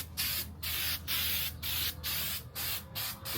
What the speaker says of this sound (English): Just spray it all over.